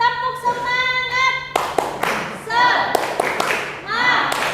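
A school class performs a rhythmic group clap chant, sharp bursts of clapping and thumps in a patterned beat mixed with children's voices chanting along, preceded by a teacher speaking.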